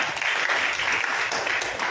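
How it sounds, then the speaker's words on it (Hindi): A church congregation claps for Jesus during a Hindi-language worship service, a sustained wash of many hands applauding at steady volume with no clear voices over it. "बजाओ ताली यीशु के लिए"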